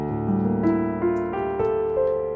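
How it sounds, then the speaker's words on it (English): A plain, soft lo-fi piano software instrument in Cubasis 3.6 plays a slow sequence of sustained notes, one after another, with no voices. "So the basic piano sounds like this."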